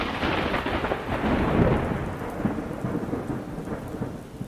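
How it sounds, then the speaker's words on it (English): Thunder rumbles low and steady through a heavy downpour, rain hammering a surface in a dense continuous wash that swells and eases slightly. "the thunder, the lightning, the water, the heavy rainfall hitting the surface"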